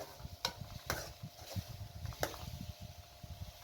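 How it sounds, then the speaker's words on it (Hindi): A spoon stirs a spaghetti sauce of chili, soy sauce and white vinegar in a pan, giving soft scraping and clinking strokes with a few louder taps against the metal, faint and close. "तमाम चीज़ों को अच्छे तरीके से मिक्स कर लें।"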